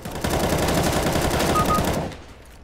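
Rapid automatic gunfire in the video game CS:GO, a continuous close burst of shots lasting about two seconds and then cutting off into quiet.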